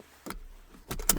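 Seatbelt buckling inside a 2022 Rivian R1T Launch Edition electric pickup: a soft strap slide followed by two sharp, close metallic clicks as the latch engages, in a quiet cabin.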